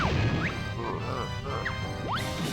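Grenade egg explosions in the video game Banjo-Tooie, crunchy blasts and crashing impacts with rising whistling tones over busy game sound, a few bursts in quick succession.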